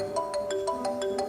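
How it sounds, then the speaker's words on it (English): A cell phone ringtone plays a quick, bright run of electronic notes in a repeating melodic pattern, close and clear with no talk over it. "I'm calling your cell phone."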